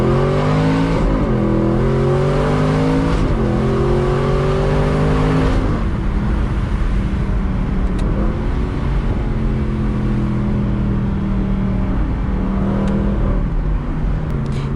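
A 2014 Aston Martin V8 Vantage's engine is loud and close from inside while driving, rising in pitch through repeated revving runs. It drops briefly around gear changes, then climbs again, with a steady road roar underneath.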